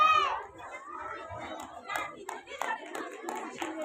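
An audience at a school prize-giving applauds the winners, scattered claps mixed with children's chatter and a voice speaking over the crowd.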